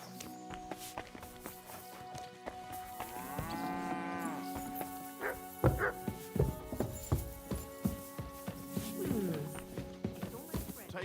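A dog barks in a series of loud, close woofs amid cattle lowing and footsteps in a medieval village in Kingdom Come: Deliverance 2, with game music underneath.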